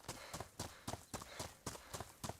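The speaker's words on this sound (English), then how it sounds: "It's footsteps screaming in my ear." Heavy footsteps in the survival video game DayZ, a steady run of about eight loud, close thuds at an even walking rhythm, with no talking over them.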